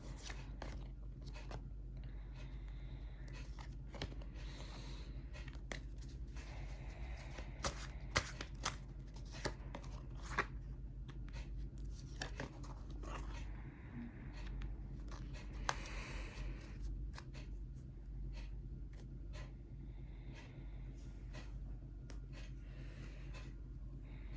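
Tarot cards are handled and shuffled close up, with a steady run of soft papery riffles and slaps over a low constant hum, and no voices.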